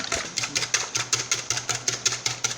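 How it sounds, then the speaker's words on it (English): Three eggs get whisked with an egg whisk, a quick, steady clicking rhythm of about five strokes a second, close by and without speech. "So just whisking my egg now with egg whisk"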